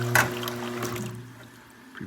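A short splash of water rinses a cup at a home espresso machine, a brief close gush of running liquid over a steady low machine hum that fades out.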